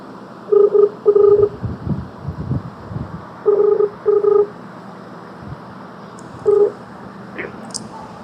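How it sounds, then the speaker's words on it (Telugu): A telephone keypad sends a short series of touch-tone beeps, some in quick pairs, as a number is dialed to place a call, clear and close over faint background rumble. "ఇప్పుడు వాళ్ళిద్దరి మధ్యలో మనం ఫోన్ చేద్దాం."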